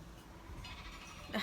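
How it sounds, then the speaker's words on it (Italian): A sheep at a farm fence gives a single short bleat near the end, preceded by quiet low rustling background. "Tutto il vlog con le pecore adesso"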